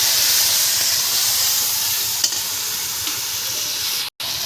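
Chicken curry being sautéed in a pan with oil gives a steady, close sizzling hiss that stays even throughout, broken only by a brief dropout near the end. No one speaks.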